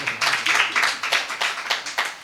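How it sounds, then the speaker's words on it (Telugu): A church congregation at a Friday worship service in Doha claps in a quick, rhythmic burst of several loud, close claps. "చప్పట్లు కొట్టండి ఒకసారి వాళ్ళకి."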